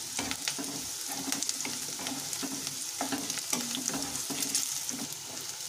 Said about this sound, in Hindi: हमारे प्याज भुनने लगे हैं